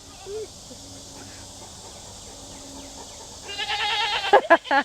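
Goats bleat on a farm during morning grazing, first a faint call amid quiet insect hum, then louder overlapping bleats near the end, close by.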